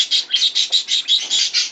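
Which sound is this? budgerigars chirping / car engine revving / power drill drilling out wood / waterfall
budgerigars chirping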